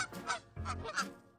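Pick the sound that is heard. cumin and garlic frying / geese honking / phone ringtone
geese honking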